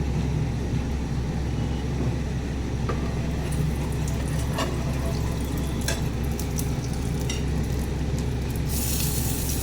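Oil sizzles and fries steadily in a pan while chilli paneer is being cooked, a dense, even crackle close by with a few sharper spits and no talking.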